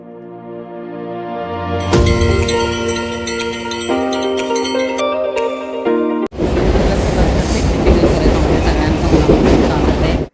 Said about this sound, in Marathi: मी आहे मुंबईच्या लोकलमध्ये आत्ता ही लोकल चालले दादर ते सी एस टी